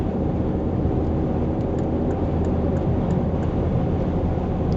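A Volvo XC60 engine drones steadily as adaptive cruise control accelerates back to 100 km/h, under heavy road and wind noise inside the cabin, with a faint recurring ticking sound.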